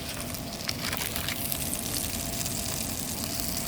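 A salmon steak sizzles and fries on a plancha with a steady, fairly quiet crackling hiss and occasional soft pops.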